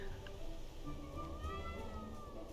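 A cat in the video game My Time at Portia meows softly in a quiet scene, giving a couple of short, drawn-out cries over a low background hum.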